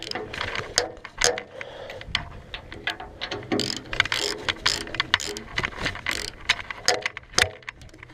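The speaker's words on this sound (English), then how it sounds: "just snug up all the bearing bolts. There's 4 on each one. This way, and you're just gonna crank them down good." A ratchet tightens bearing bolts, giving rapid repeated clicking bursts with metallic clanks between them. The sound is close and loud, with no talking.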